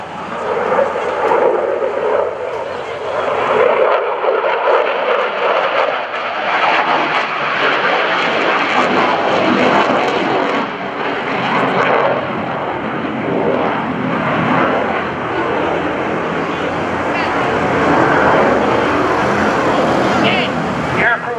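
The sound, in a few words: F/A-18F Super Hornet jet flying airshow demonstration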